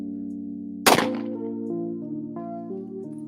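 A single sharp gunshot fired from the hip in a video game, a sudden loud crack near the start that decays into a ringing tail under sustained background game tones.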